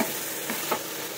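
A banana flower (mocha) curry with ghee is stirred in a pan, giving a dense, continuous sizzle with soft scraping strokes.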